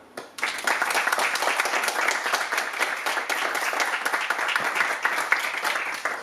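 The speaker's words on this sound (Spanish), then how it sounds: "Un fuerte aplauso para él." Sustained audience applause for a lecturer at a history talk on the Vendée, steady dense clapping from a seated crowd starting after a brief quiet moment and holding evenly throughout.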